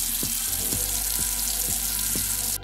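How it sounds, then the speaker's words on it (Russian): Cartoon effect of water rinsing leftover dirt off an asphalt paver: a loud, hissing spray that runs continuously, with a regular pulsing rhythm of about four beats, before stopping sharply at the end. "Смываем остатки грязи."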